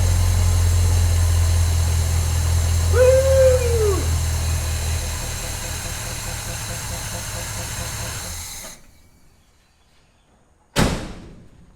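A 1970 Chevy C10 truck engine idles loud and close with a steady, low rumble for several seconds, then cuts out, leaving near silence before a sharp bang.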